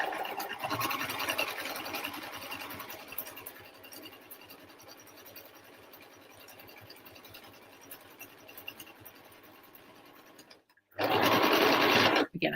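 Close up, a sewing machine top-stitches a fabric bucket hat with a steady, fast mechanical whirr that slowly eases off in level, pauses briefly, then surges back loudly at the end.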